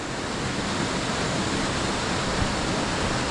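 Water from a mountain stream rushes and splashes in a steady, dense roar that stays loud and close with no pauses.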